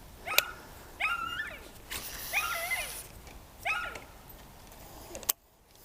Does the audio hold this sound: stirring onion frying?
no